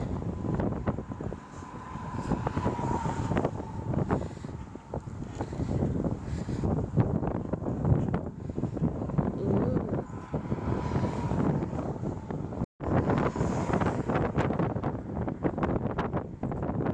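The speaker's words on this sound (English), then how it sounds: "It's windy and rough today." Steady wind buffets the microphone, a rough, roaring rush that stays loud and constant throughout, with only a brief dropout.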